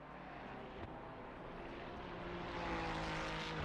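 Race cars in a sim racing game at Mount Panorama, a steady broadband engine drone that swells slightly toward the end, continuous and without breaks.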